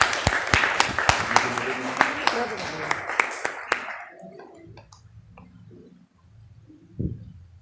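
Applause from an audience at a Kyokushin karate belt promotion ceremony, a dense crackle of many hands clapping at fair volume that thins out and fades away after a few seconds.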